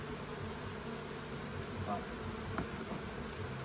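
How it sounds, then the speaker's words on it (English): Honey bees buzz around an open beehive frame during an inspection, a steady dense drone that holds evenly throughout at a close, moderate level, with a few faint handling noises mixed in. "Lots of bees."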